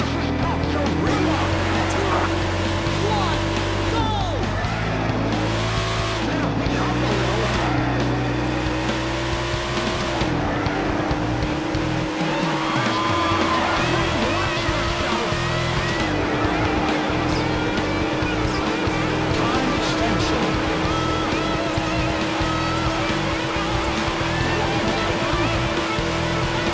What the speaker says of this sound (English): Gentlemen, start your engines! This is your engine!